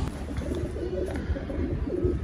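Pigeons kept in a cage coo in low, throaty rolling calls, several overlapping murmurs close by against a steady background hum, with no talking.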